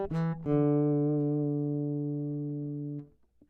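Guitar chord swelling in through a slow-attack volume effect, rising after the pick and then sustaining smoothly before fading out, heard alone.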